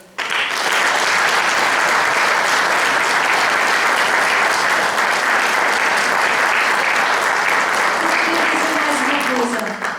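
Sustained applause from an audience at a book launch, a dense, loud wash of clapping filling the whole span and easing only at the very end, with faint voices underneath.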